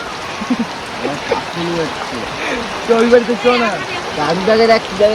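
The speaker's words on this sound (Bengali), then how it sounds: "দেখো এইদিকে বৃষ্টিটা কিরকম পড়ছে দেখেছো" Heavy rain falls steadily during a storm, a constant wash of hiss beneath several people talking close by throughout.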